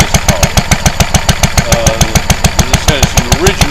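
A Lister D stationary engine with radiator, mounted on a cart, runs at 700 RPM with a steady, rapid thumping beat, loud and close, while someone talks over it.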